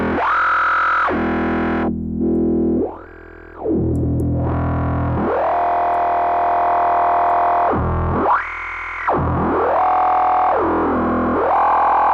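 A heavily distorted synth, set to a Scream LP filter in a deathstep track, plays sustained, gritty tones that sweep up and down in pitch, loud and buzzing, with brief drops between phrases.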